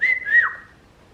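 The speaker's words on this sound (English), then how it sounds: "Good whistling." A three-year-old child whistles a short, clear, rising-and-falling note lasting under half a second, then fades into quiet room tone.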